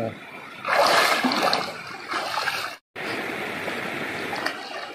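Water splashing and churning close by, a louder burst in the first seconds, then a steady wash of splashing after a brief cutout.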